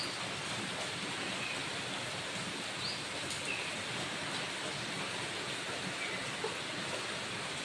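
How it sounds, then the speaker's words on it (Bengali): Heavy rain pours steadily outdoors during a rainy day, a dense, continuous hiss that stays even and close throughout with no talk over it. "প্রচণ্ড বৃষ্টি হচ্ছে"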